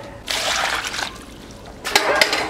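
Home-grown potatoes are rinsed in water, making two bursts of close splashing and sloshing separated by a brief quieter pause.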